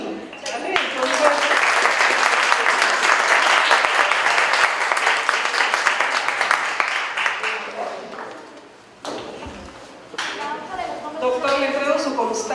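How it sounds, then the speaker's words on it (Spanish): Strong audience applause at a brain and heart science lecture, loud dense clapping that swells and holds, dips briefly, then resumes with voices talking over the later clapping. "vamos a dar un aplauso fuerte"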